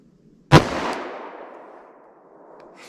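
A single sharp 10mm pistol gunshot, fired from about five yards at a target with a chronograph downrange, cracks loudly near the start and leaves a long fading reverberant tail.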